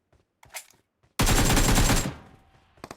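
Gunfire in the mobile battle royale game BGMI: a dense, loud burst of rapid automatic shots lasts under a second, with sparse clicks and thuds before and after.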